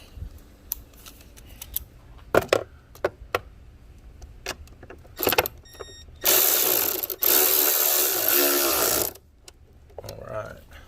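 A tool tightens the battery hold-down bracket on a Volvo S60, with scattered clicks and knocks first, then a loud, sustained ratcheting whir lasting about three seconds, close by.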